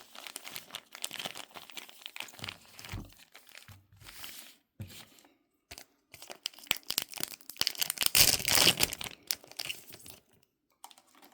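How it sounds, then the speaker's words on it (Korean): Yu-Gi-Oh card packs torn open by hand, giving bursts of crinkling foil wrapper and ripping with short pauses between, loudest near the end, close and alone. "한 통은 손으로 까보고 나머지는 가위로 자르도록 하겠습니다."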